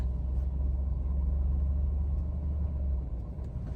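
A Toyota Echo with a 1.5-litre engine idles after a misfire repair, giving a steady, even low rumble that holds close and continuous with no talk over it.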